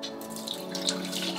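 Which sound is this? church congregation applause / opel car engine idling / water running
water running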